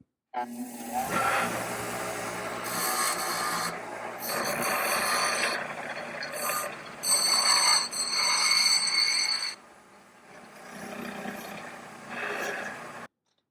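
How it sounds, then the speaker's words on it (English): A bench grinding wheel grinds down a headlight part to make it fit, giving a harsh, close, broadband grinding roar in several sustained bursts with short pauses over about twelve seconds. "So I'm going to go to the grinding wheel and grind this up a bit."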